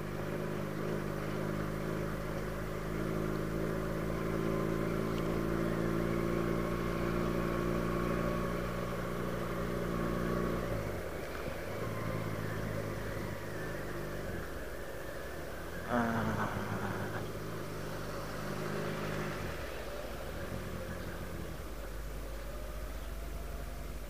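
A car engine hums steadily at moderate volume on a rural road near Desa Melis, Gandusari, Trenggalek, behind a vehicle hauling heavy freshly sawn wood, with gear changes and brief revs breaking the drone.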